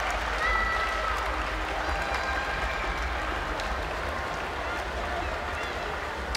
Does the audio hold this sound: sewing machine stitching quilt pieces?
no